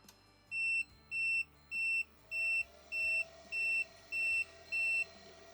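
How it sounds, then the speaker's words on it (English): A series of eight short, evenly spaced electronic beeps from an ALLPOWERS R2500 Plus power station switching over to UPS mode, clear and close, over a faint fan hum. "It doesn't beep for very long, just enough to let you know that the switchover has happened"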